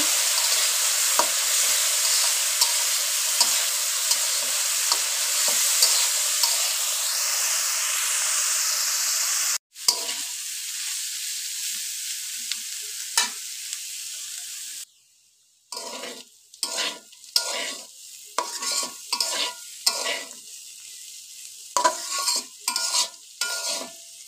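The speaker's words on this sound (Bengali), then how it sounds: "এখন ভালোভাবে আমি উস্তা ভাজা নেব।" Bitter gourd with potato, green chilli, salt, coriander powder and turmeric sizzles loudly in a pan, then the frying is interrupted by bursts of scraping stirs, with no voices heard.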